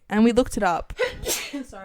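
A single short sneeze bursts out partway through casual conversation, with people talking just before and after it.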